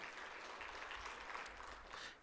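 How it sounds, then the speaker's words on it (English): Steady applause from an audience honoring Senator Dominick Moreno, a dense, even patter of many hands clapping that carries on for a couple of seconds before easing slightly at the end. "let's give him a round of applause"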